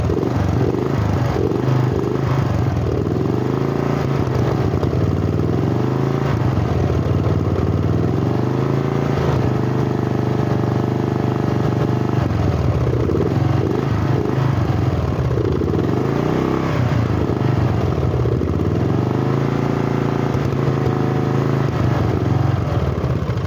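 A restored lawn tractor engine runs loud and close with a rough, chugging drone while its idle is adjusted. The engine speed rises and falls slightly throughout.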